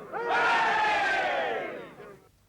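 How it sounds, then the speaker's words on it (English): A crowd of soldiers roars a loud, sustained "hurrah" in unison, one swelling shout that holds for over a second and then fades, part of a hip-hip-hurrah cheer in a 1969 period drama. "A cheer to that! Hip, hip!"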